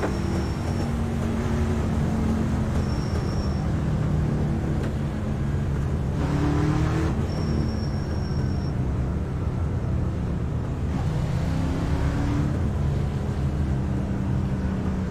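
SHARC League race trucks roar around a Texas track in a steady, dense engine drone, with pitch swells as trucks pass by, continuous and loud without pause.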